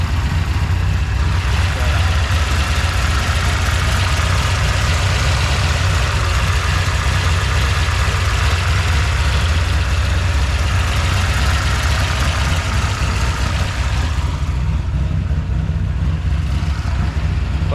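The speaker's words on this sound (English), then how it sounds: "just hearing this car run is what really got us" A car engine idles and runs steadily for the whole stretch, a loud, continuous low rumble with a rough, throbbing edge and no pauses.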